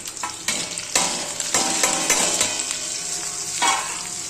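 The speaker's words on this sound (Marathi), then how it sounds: "आता त्याच्यामध्ये हे मसाले टाकून द्यायचे" Spices tipped into dry Bombay duck gravy frying in a pan, giving a loud steady sizzle with repeated scraping stirs throughout, no voices.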